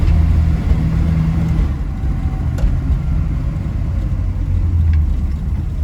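Low, continuous engine hum and road rumble fill the cabin of a Ford Galaxie with reworked leaf springs on a drive, steady throughout with a slight swell, no voices.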